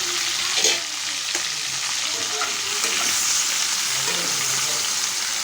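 Brinjal curry cooking in a pan gives off a steady, close, fairly loud sizzle and frying hiss for the whole stretch, with a few faint stirring knocks and no talking.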